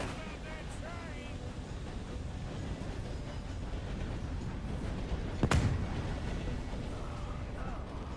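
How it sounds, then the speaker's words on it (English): A train rolls past in the Western-era world of Red Dead Redemption 2, a steady rumbling mass of rail noise filling the clip, with a sharp loud crack or bang about two-thirds through. "Too bad about that train."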